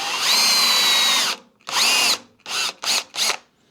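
A power drill spins a 1-inch bit through a board, first in one long whining run, then in a second burst and three short pulses separated by silence, close and clear with no talking.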